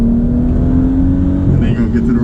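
Corvette engine droning at the Nürburgring as a lap begins, a loud steady mid-pitched hum heard from inside the car with a slight rise in revs, while a person talks over it.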